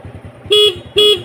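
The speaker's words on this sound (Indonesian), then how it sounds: "dan kita cek untuk klaksonnya" Horn of a 2006 Honda Supra Fit motorcycle gives two short, loud honks about half a second apart, close by over the low idle of its running engine.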